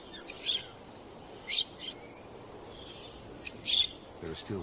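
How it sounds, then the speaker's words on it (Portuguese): Parakeets chirp in the shade of rocks in dry Namibian terrain, giving a few short, bright bursts of tweets separated by pauses over a faint outdoor hiss. "Periquitos se abrigam na sombra das rochas."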